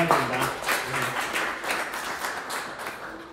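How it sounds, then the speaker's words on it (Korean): Audience applause after a presentation at a forum on peace, a continuous, fairly loud patter of many hands clapping close by, steady across the whole stretch with no voices over it. "다시 한번 큰 박수 부탁드릴게요"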